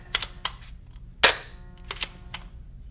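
Paintball marker fitted with an Inception Designs Sniper pump kit fires several sharp, loud cracks at uneven intervals, each a short broadband snap with brief ringing, heard up close with no talking.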